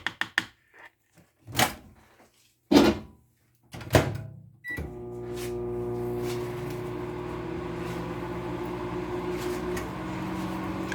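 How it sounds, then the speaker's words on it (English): A few sharp clicks and clunks like a door shutting and buttons being pressed, then a steady electric hum as a microwave oven starts running, heating melt-and-pour soap. "I'm going to pop it back in the microwave"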